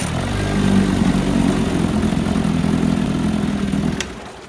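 A 75-year-old vintage Mercury Super Five outboard motor runs at a steady idle, a loud, close, continuous droning hum that holds evenly before dropping away at the end.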